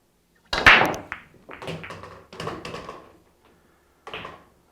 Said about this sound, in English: Believe that was 4 balls on the break.